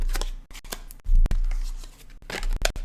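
A single tarot card is mixed back into the deck with loud, close shuffling bursts, rough papery swishes and riffles broken by short pauses.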